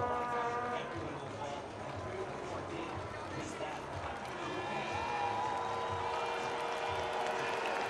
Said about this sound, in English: The Swedes giving a round of applause for their man, Viktor Oling Norberg.